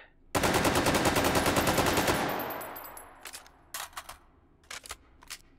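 Rapid automatic gunfire in the VR shooting game Hot Dogs, Horseshoes & Hand Grenades, a long loud burst of fast shots tailing off, then several short separate bursts and single shots.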